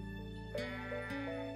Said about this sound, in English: Look at these fluffy sheep.